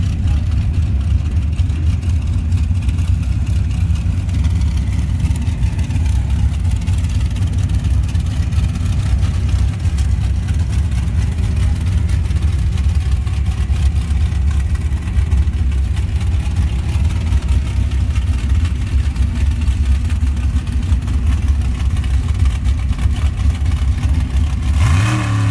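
Drag racing cars at the Avenal Sand Drags Spring Nationals in Avenal, California, during Pro bracket eliminations, give a steady loud engine roar across the whole stretch, with heavy low rumble and revving at the start line.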